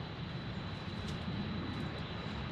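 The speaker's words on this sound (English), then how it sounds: "Other than the airplane, that kind of ruined it a little bit." A fixed-wing airplane passes overhead a hillside pollinator garden in a Texas park, a steady, continuous droning roar that fills the whole moment without letup and with no talking.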